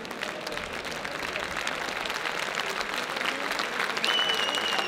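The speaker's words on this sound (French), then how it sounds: "On peut applaudir, hein." Sustained applause from an audience at a table tennis match between two players, steady, even clapping filling the whole stretch at a moderate distance.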